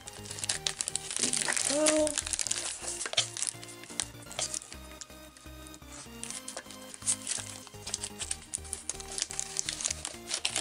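Crinkling and tearing of a double-layer plastic mail package being pulled open, with repeated crackling bursts close by under a voice speaking briefly.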